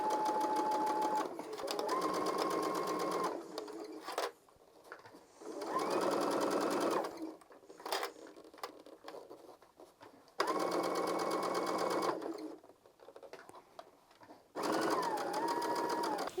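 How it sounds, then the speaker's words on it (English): Sewing machine stitching bias binding close along a seam edge, in several loud whirring bursts of a few seconds each, separated by short pauses and small clicks. "we're going to go ahead and just sew really close to this edge all along on our sewing machine"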